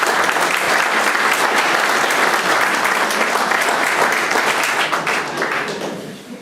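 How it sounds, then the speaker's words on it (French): Sustained applause from an audience at a mayor's New Year wishes ceremony in Muespach, dense steady clapping throughout that thins and fades over the last second. "je crois qu'on peut vous applaudir"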